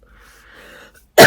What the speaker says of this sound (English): Should have coughed before I started recording.